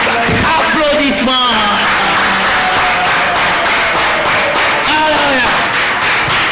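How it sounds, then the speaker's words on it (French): Applause and cheering from a congregation in a church, with rhythmic clapping, whoops and raised voices blending into a loud, close, continuous crowd roar. "Applaudissements."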